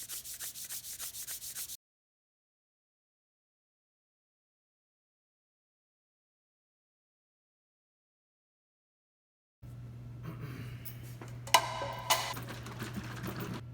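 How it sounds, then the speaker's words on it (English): Hand sanding of wood with a full sheet of 120 grit medium sandpaper: a steady, close scratchy rubbing in two stretches, a short burst then a longer run after a long silence, over a low hum. "What I've got here is a full sheet of medium grit, which is 120 grit sandpaper,"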